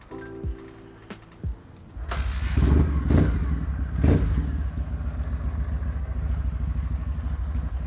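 Kawasaki W650 motorcycle starting a test ride, a few clicks and thuds, then the engine fires and settles into a loud, steady rumble up close.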